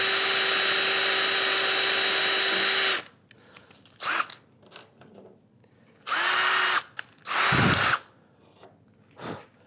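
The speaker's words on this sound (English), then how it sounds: "I have to drive a couple of screws here." Power drill driving screws into a wooden workbench drawer: one long steady whine for about three seconds, then two more bursts and a few short spurts with quiet handling noises between.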